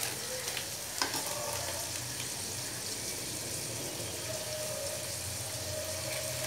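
Mutton mince curry with turmeric frying in a pan, a quiet, steady hiss and sizzle with one faint clink of a utensil and no speech.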